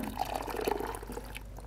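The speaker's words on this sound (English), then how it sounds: "And then the buttermilk and half mixture." Buttermilk and half-and-half mixture poured into a pot of mashed potatoes, a steady close liquid stream for under two seconds, moderately loud and alone.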